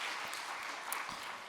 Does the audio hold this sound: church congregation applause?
yes